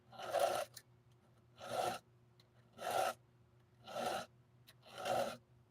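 A file sharpens a chainsaw chain in five slow, even strokes, each a close, gritty rasp with a short quiet pause before the next.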